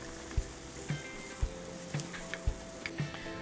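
Onions sautéing in a pan for mushroom risotto, a soft steady sizzle with scattered clicks and taps of a utensil against the pan, close and fairly quiet.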